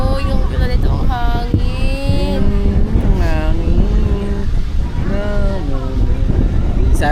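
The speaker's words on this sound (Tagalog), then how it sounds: "Oh, yung ganitong hangin." Strong wind buffets the microphone at an outdoor rock resort, a constant loud rumbling roar running through the whole stretch beneath people talking and laughing.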